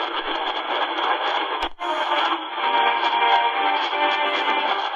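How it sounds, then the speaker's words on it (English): C.Crane Skywave 2 radio tuned to the evening medium-wave band, several stations overlapping into a dense, steady jumble of garbled broadcast audio and static, with one brief dropout partway through. "as you can hear a bunch of stations being broadcasted over each other"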